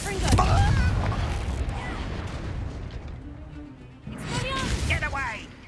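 Explosive spell blasts in Hogwarts Legacy, a sharp bang at the start and a second burst later, with someone talking over the game effects and background music.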